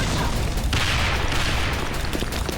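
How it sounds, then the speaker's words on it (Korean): A grenade thrown in a video game explodes as a dense, loud roar of broadband noise with rumbling low end that persists throughout, with no clear separate attacks. "수류탄 날아갑니다"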